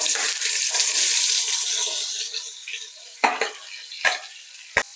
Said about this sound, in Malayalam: ആദ്യം നമുക്കിനി സവോള ഇട്ട് കൊടുത്ത് വഴറ്റി കൊടുക്കാം.